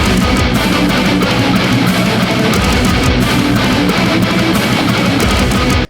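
Heavy metalcore breakdown, with distorted guitars chugging low palm-muted riffs over drums, dense, loud and continuous throughout.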